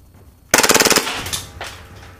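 A KWA FPG airsoft gun, a folding pocket gun licensed by Magpul, fires one short full-auto burst of about eight rapid, evenly spaced, loud close shots, followed by faint mechanical rattle and handling noise.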